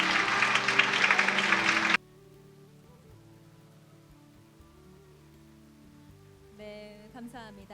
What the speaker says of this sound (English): Let's all send them a round of applause,